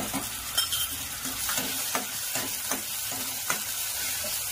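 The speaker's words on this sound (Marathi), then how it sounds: "त्यामध्ये आलू लसूणची पेस्ट टाकूया" Ginger-garlic paste sizzles and fries in a hot pan while a spoon stirs it in steady, repeated scrapes, close and clear, with no talking.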